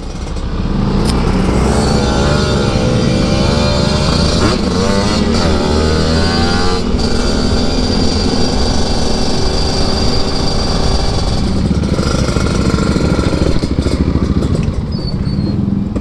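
Several Vespa scooter engines run close by and loud throughout, with revving swells and a steady motor drone at a Sunday morning ride gathering, joined by some light clatter.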